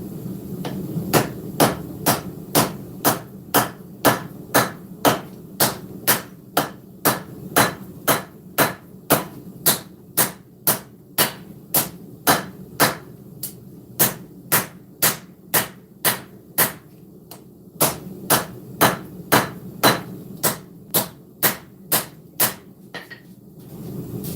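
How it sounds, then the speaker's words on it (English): A hammer forges a knife blade on an anvil in a steady run of about forty sharp, ringing strikes at an even pace, close and loud, with a low workshop hum underneath and no talk. "We'll start by forging this corner down and in."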